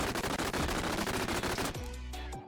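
MP5 submachine gun fire in the VR game Bonelab comes as a rapid burst of sharp, evenly spaced automatic shots that then cut off into a short decaying tail.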